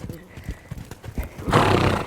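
Young green horse during riding training: rhythmic clip-clop of hooves on the track, then a loud whinny close by near the end.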